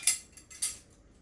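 A metal utensil stirs ingredients in a bowl, giving two or three quick, light clinks close by, followed by quiet.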